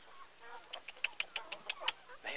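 Chickens on a farm, a quick series of about eight short, clipped clucks in a near-regular rhythm, close and fairly quiet over a faint low hum, with no talk.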